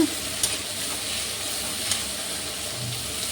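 Onions and potatoes sautéing in a pan with salt for a spicy potato palya, a steady close sizzle with a few faint stirring scrapes and no talk.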